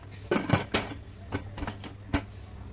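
A metal lid is handled and fitted onto a pressure cooker holding rice and vegetables, giving a few close clanks and rattles spread over a couple of seconds.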